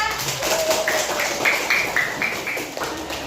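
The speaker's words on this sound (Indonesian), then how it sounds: "tepuk tangan untuk Ola" A class of children claps for a classmate during a Quran recitation lesson. The claps come as a short burst of light, rhythmic slaps mixed with young voices close by.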